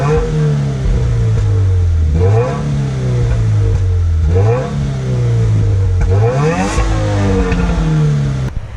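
A 2015 Subaru WRX with its 4-cylinder turbo engine revs repeatedly through its exhaust, loud and close, rising and falling about four times in a smooth, fairly ordinary tone with no talking.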